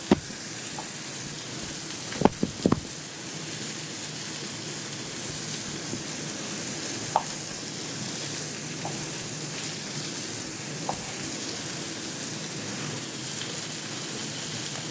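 Halved green grapes sizzle in a frying pan, a steady close hiss of frying that runs throughout, punctuated by a few sharp pops and clicks.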